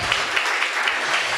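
A church congregation breaks into brief applause during a sermon, an even wash of many hands clapping at moderate loudness for just over a second.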